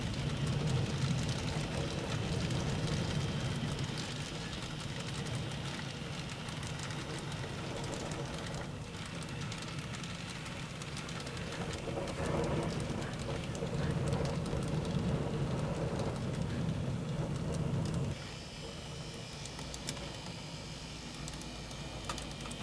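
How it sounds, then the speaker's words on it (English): A Class 66 locomotive hauling a long rake of JNA and low-sided MOA ballast wagons rumbles past continuously at moderate distance, a low steady roar with rattling wagon noise that drops slightly near the end. "This Class 66 has a pretty long rake of JNA ballast wagons and low-sided MOA ballast wagons."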